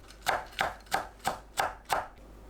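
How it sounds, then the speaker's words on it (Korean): A knife chopping halved cheongyang green chili peppers on a cutting board, six even, crisp cuts in a steady rhythm, close and clear with no talking. "청양고추는 반 갈라 썰어줍니다"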